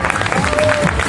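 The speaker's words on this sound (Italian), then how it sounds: "Arthur, facciamogli un bel applauso." An audience applauds at a Krav Maga demonstration, a dense, loud wash of clapping from a crowd with a voice briefly audible within it.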